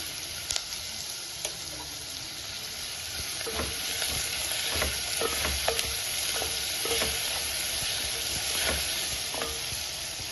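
Soya chunks sauté in a hot pan with a steady, continuous sizzle, broken by repeated sharp scrapes and knocks of a spoon against the metal. No one talks.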